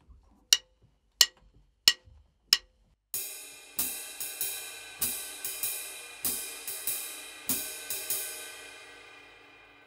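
Jazz drum kit practice: four sharp, evenly spaced hits, then a ride cymbal keeping a steady swinging pattern with regular accented strokes and a shimmering wash, alone and close.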